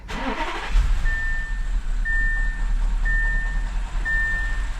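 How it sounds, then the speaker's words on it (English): A one-owner 2016 Audi A8L with a 4.0L engine and a misfire cranks and fires up, then settles into a steady, uneven idle. A high electronic chime beeps about once a second over the running engine. "I'm gonna start the car and we'll see what happens now. All right, let's go ahead and start it."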